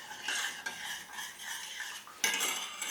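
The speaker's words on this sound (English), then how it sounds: "Stir that around a bit." A spoon stirs donut dough ingredients in a mixing bowl, a steady close scraping and clinking that runs continuously with a brief pause, then grows louder and brighter near the end.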